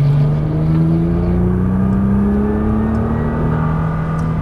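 Nissan GT-R engine pulling hard on a Las Vegas racetrack, a loud continuous drone rising steadily in pitch through a long acceleration, heard from inside with no talk.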